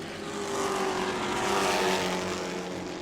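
Race trucks on the back straightaway at New Smyrna during World Series racing, their engines roaring past in a swelling, fading rush, moderately distant, rising to a peak midway and trailing off.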